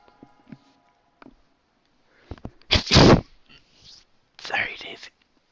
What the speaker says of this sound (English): hate sneezing.